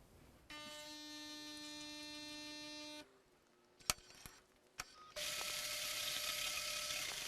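A Gaggia Naviglio Milk coffee machine runs with a steady tonal whir for a few seconds, followed by a few clicks. A louder, dense grinding roar of its built-in grinder then starts and holds to the end.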